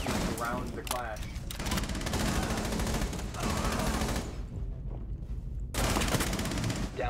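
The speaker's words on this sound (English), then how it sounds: "I have to shoot around the Clash." Rapid bursts of video game gunfire from a tactical shooter match, dense and continuous through most of the stretch, with a short quieter gap before the shooting resumes loudly.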